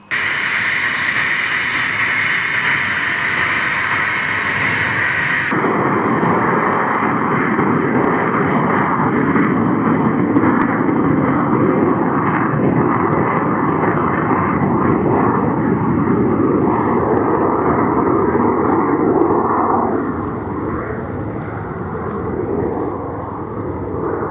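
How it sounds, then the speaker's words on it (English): Loud, steady roar of Nigerian Air Force military helicopters and bombers taking off, sustained throughout with a sharp drop in high hiss early on, easing slightly near the end. "one after another, the helicopters and bombers climbed into the air for bombing missions"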